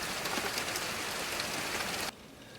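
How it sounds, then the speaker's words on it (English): Steady rain pours down at a farmhouse, a dense, even hiss of drops on surfaces that continues alone and then drops off abruptly near the end. "The rain started about an hour and a half ago"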